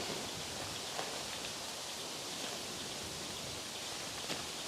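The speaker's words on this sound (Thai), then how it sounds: "อนนี้ลมแรงมากนะครับ ตอนนี้" Steady, dense roar of strong wind buffeting outdoors in a forest, a continuous broadband rush with no pauses and no voices.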